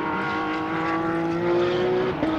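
A Porsche GT3 Cup race car accelerates at the Algarve circuit, its engine a steady, loud, rising whine held throughout with a brief shift dip near the end.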